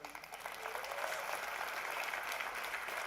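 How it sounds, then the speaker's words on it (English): An audience gives a round of applause at a speaking event, a soft, fairly distant wash of clapping that holds steady for a few seconds. "Give you all a round of applause for coming."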